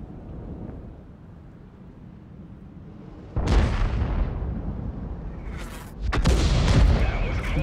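A tank cannon fires in World of Tanks as two heavy, loud booms a few seconds apart, each followed by a rumbling tail, after a quiet stretch of low engine hum.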